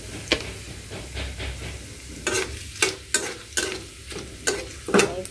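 Whole cumin seeds fry in hot oil for a duck curry, giving a soft sizzle broken by close scraping stirs and taps at an irregular pace, with no talk.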